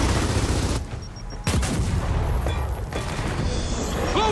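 Booming grenade blast and rapid gunfire fill a firefight in Gears of War 4, loud and dense, with a sharp explosion partway through followed by continued shots and debris.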